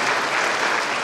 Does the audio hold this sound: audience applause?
yes